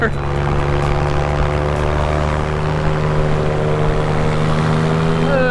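A paramotor engine drones steadily and loudly through the whole stretch while flying over a landing zone near Pilot Mountain, a constant propeller buzz with no breaks.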